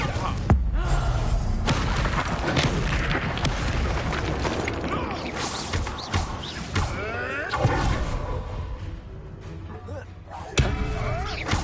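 Confringo explosive spell bursts in Hogwarts Legacy, several booming hits and thuds scattered through busy combat noise, with a voice talking over them.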